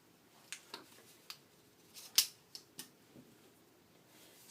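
Scissors cutting long hair up close, a series of quiet, crisp individual snips spaced irregularly about every half second, with one sharper snip standing out in the middle.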